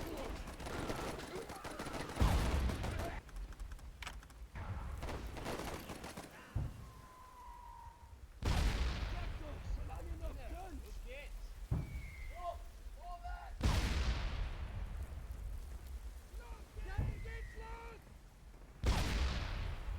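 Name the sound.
mortar rounds and gunfire in WARFARE Legacy video game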